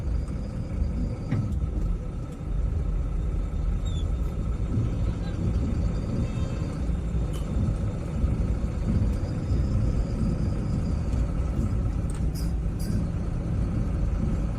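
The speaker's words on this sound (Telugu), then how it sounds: "బాగా ట్రాఫిక్ జామ్ అయిపోయింది ఊళ్ళో" Continuous low engine rumble from idling and crawling vehicles in a village traffic jam on rain-damaged roads, with occasional brief horn toots and voices talking over the road noise.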